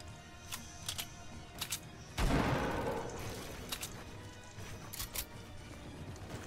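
Assault rifle fire in a squad-based shooter video game: a dense burst of shots lasting about a second, loud and close, with fainter clicks and small game sounds before and after.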